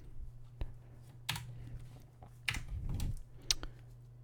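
Computer keyboard typing: a handful of sparse, quiet key clicks spaced irregularly over a low steady hum, with no voice.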